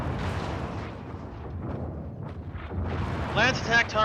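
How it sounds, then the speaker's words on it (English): Explosions and weapons fire from mechs in the video game MechWarrior 5, a dense rumbling barrage of blasts and booms with a sharper burst of crackling fire near the end, running under talk. "Critical explosion imminent."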